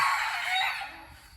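A rooster crows once at a forest temple in Nong Khai, Thailand, in a loud, drawn-out call that fades at the end with no one speaking.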